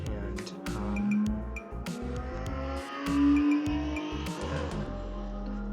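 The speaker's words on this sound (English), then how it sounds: "not sure if you guys heard that, but motorcycle." A motorcycle passes by outdoors, its engine rising and then fading with a couple of swells, partly under a quiet voice.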